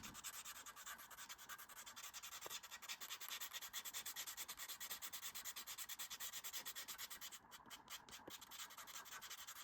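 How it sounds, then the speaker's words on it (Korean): Continuous rapid scratchy rubbing of sandpaper worked back and forth over a leather card wallet edge, steady and fairly quiet throughout, with no talking. "사포로 살살 긁어주실 거예요."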